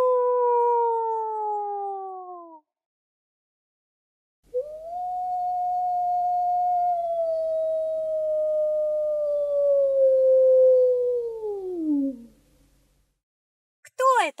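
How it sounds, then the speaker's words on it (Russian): A wolf howling in long, smooth, sustained tones, one falling howl followed by a longer steady howl that drops off at the end, clear and alone against silence. "Волк воет."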